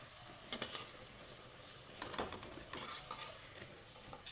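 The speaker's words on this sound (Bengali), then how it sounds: "তো এইভাবে আমি সবগুলো ভেজে নেব টিফিনগুলো।" Tiffin snacks frying in a pan, a faint, soft sizzle with scattered clicks and scrapes of a utensil against the pan, heard quietly at a distance.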